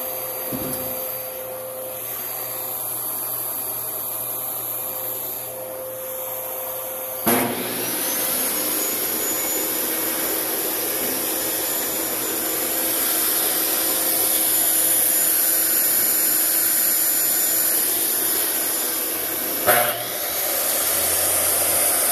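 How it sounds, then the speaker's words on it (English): A vacuum cleaner drones steadily for a long stretch, its motor whine holding loud and even, with a couple of brief knocks along the way. "So I'm going to turn the vacuum cleaner on first."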